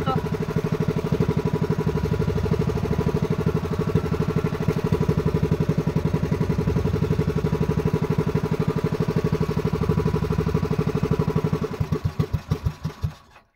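A boat engine on a fishing trip runs with a steady, close, chugging mechanical rhythm, then sputters into a few uneven beats and cuts out at the end.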